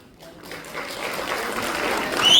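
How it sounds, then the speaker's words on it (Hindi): Applause from a business-conference audience at an Amway India leaders' event, dense and continuous, swelling steadily louder as leaders give the mentor a standing ovation. "आप सबकी जोरदार तालियों के साथ"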